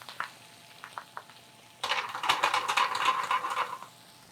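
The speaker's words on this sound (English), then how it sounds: "I'm just gonna throw that in the pan and let it pop a little bit" Chopped greens with ginger hit a hot pan with a sudden loud sizzle and crackling pops after a few quiet clicks, frying steadily and close for a couple of seconds before fading.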